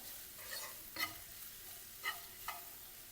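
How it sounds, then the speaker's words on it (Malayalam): Onion and green chili sauté in a pan for crab curry. A soft, faint sizzle runs throughout, broken by three or four quick scraping stirs. "വലിയ ഉള്ളി ഒന്ന് വഴന്ന് വരുന്ന വരെ ഒന്ന് വെയിറ്റ് ചെയ്യാം"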